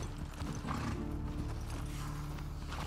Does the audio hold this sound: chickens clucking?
no